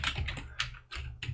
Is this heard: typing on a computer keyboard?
yes